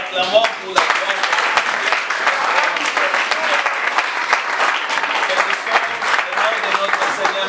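A church congregation applauds, with dense sustained clapping from a large crowd that fills the room at a steady loud level from start to finish.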